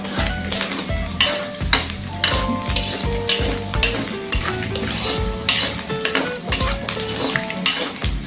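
Bopis, a Filipino pork offal dish, being stirred and fried in a pan to render out its fat, with loud, steady sizzling under repeated scraping and clanking of a utensil against the metal pan.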